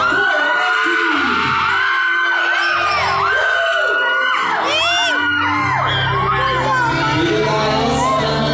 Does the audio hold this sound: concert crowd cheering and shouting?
yes